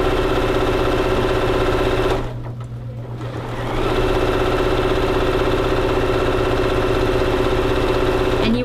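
A sewing machine runs steadily as it stitches a skirt waistband, a close, even mechanical whir and rapid needle chatter that dips briefly as it slows, then picks back up to a constant hum.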